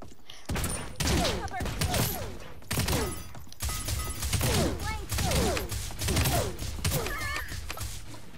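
Powerful gun in the video game Realm Royale fires repeated bursts of sharp shots in quick succession, with whooshing effects around them, loud and close, continuing for several seconds.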